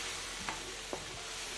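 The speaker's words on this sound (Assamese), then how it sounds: "এনেকৈ 5 মিনিটমান ভাজিব লাগিব" Spice paste for matar paneer frying in a pan, a constant soft sizzle with two quick scrapes of a spoon stirring it.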